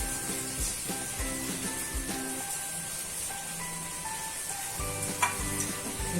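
Flattened rice (poha) with garlic and potatoes is stirred in a hot pan, with a constant soft sizzle under repeated rhythmic scrapes and knocks of the spoon, and no talking.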